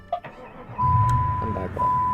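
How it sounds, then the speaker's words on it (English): A custom turn signal in the BeamNG driving game ticks with a steady electronic tone under a voice, a car idling low underneath, close and moderately loud. "And turn signal on, vehicle off"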